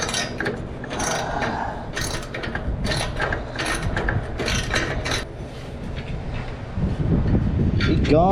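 Ratcheting clicks from a wrench loosening a nut on an Indian motorcycle exhaust, close up, a steady run of metallic ticks with a few louder clanks and no talking.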